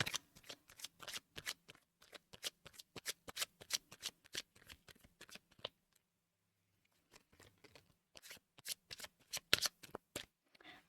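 Médéors oracle cards are shuffled by hand in quick bursts of crisp riffling flicks, close and quiet, with a short pause midway before the shuffling resumes.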